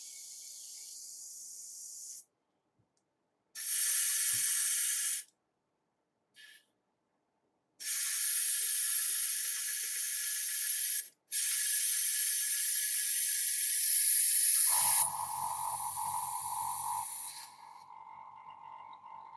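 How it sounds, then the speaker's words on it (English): An airbrush sprays alcohol and airbrush cleaner during cleaning, giving several sharp bursts of hissing air separated by silence, including one long continuous spray, then a lower, muffled hiss at the end. "I'm going to use the alcohol, and then I'm going to use some airbrush cleaner as well, just to make sure that we remove all the stuff that we don't want"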